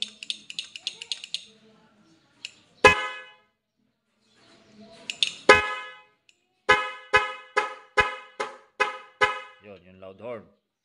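Vehicle horns on a dual-horn setup wired through a 3-way switch, sounding in a series of short, loud blasts, first in quick clusters, then a steady rhythmic run of honks, with a brief trailing tone at the end.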